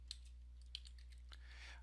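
A few sparse, faint keystrokes tap on a computer keyboard over a steady low electrical hum.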